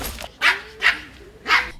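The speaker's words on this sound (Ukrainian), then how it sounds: "Трирічний шпіц зустрічає переселенців, розважає їх у черзі." A three-year-old spitz dog barks three sharp times in a humanitarian aid centre, the barks spaced roughly half a second apart, close and loud over a quiet background.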